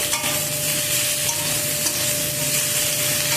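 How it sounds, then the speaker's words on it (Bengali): Cut potatoes fry in a pan while being stirred, a constant bright sizzle with occasional scraping of the utensil, close and loud, with no voices. "আলুটাকে একটু ভালো করে নাড়াচাড়া করে নেব।"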